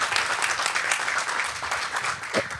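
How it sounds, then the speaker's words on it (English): Dense, steady applause from a crowd fills the whole stretch, loud and close, with a slight swell near the end. "Can we give a round of applause for all of our sponsors today?"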